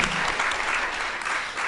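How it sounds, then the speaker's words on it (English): At a conference plenary session, the audience breaks into steady applause, continuous hand clapping at moderate loudness that lasts a couple of seconds without speech. "please give a round of applause to Dina Kafefi"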